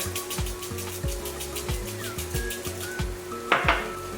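Chicken is mixed with honey mustard and barbecue rub, with a rhythmic series of clanks and scrapes of a utensil against a bowl, repeating roughly every half second, plus a brighter clatter near the end.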